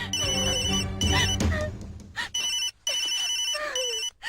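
A telephone rings in repeated electronic ringtone bursts, loud and close, with short gaps between them and no one speaking.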